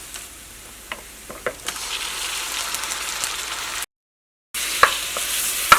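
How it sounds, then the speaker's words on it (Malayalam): Chicken pieces go into a pan of fried onions for a homestyle chicken curry and are stirred, giving a steady close sizzle with scraping stirs and clinks, a brief gap, then louder frying. "ഇനി നമ്മൾ ചിക്കൻ അവിടെ റെഡിയാക്കിയിട്ട് വെച്ചിട്ടില്ലേ, അത് ചേർക്കട്ടെ നമ്മൾ."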